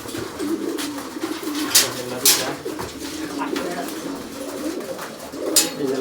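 Paired pigeons in a loft coo repeatedly in throaty, rhythmic bursts nearby, the female calling often, with occasional sharp knocks and someone talking over them.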